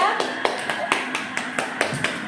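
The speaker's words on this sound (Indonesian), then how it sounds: "Ayo semuanya kita beri tepuk tangan untuk kelompok 2" A sixth-grade class gives a round of claps for a group of classmates, a sparse, fairly even series of distinct claps over a murmuring room.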